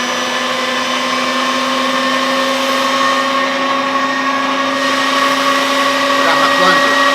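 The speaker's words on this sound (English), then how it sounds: "Alright, we got our grinder set up. Got our meat. Then go ahead and turn it on." A steady electric meat grinder runs continuously with a constant motor whine and hum while grinding raw meat for burgers at a Midwest BBQ, loud and close with little change from start to finish.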